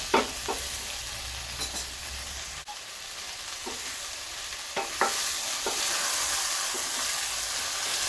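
Okra stirred as it fries in an open, uncovered pan, giving a steady sizzle with scattered scraping clicks from the spoon throughout.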